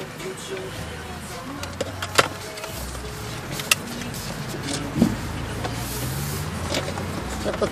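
A BMW power window motor runs as the glass goes up inside the car, a steady low whir with small clicks and bumps, close by under faint cabin noise and brief speech.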